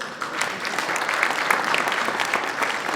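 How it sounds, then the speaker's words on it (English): An audience at an awards event applauds, a steady wash of many hands clapping at moderate volume with no clear speech. "I think that's just a round of applause."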